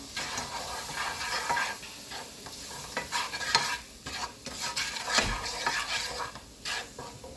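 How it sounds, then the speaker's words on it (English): A spoon scrapes and stirs steadily through shrimp with spicy Jamaican fish seasoning sizzling in a hot pan, a continuous crackle with repeated clinks, no talking. "Just gonna stir it."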